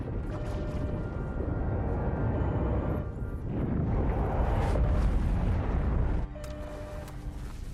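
A starship taking a hit in the Star Trek Voyager game, with sustained heavy rumbling explosions and crashing impact noise that cut off into a quieter humming bridge ambience.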